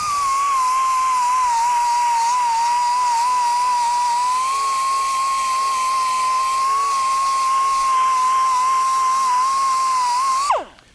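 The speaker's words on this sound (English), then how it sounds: "So I'm just taking some surface rust off of this casting." A Chief 1/4 inch 90-degree air angle grinder strips surface rust from a metal casting, giving a steady, close, high-pitched whine that runs unbroken for about ten seconds and then spins down abruptly.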